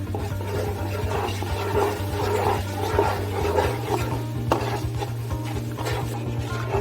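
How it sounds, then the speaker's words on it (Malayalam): A spoon stirs sugar syrup with cardamom in a pan over a medium flame for Kerala-style sweet cheeda, making soft scraping and clinking strokes over a steady low hum. "ഏലക്ക ഇട്ട് കൊടുക്കാം. നൂൽ പരുവാകുന്നവരെ നന്നായിട്ട് ഇളക്കുക."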